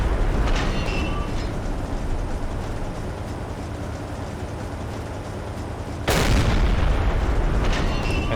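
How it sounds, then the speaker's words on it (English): Naval gunfire from an enemy ship during a Silent Hunter 3 submarine battle, a continuous heavy rumble with one sharp loud boom partway through, followed by a slightly stronger roar, with no talk. "Are they still shooting? Yeah, they're still shooting back."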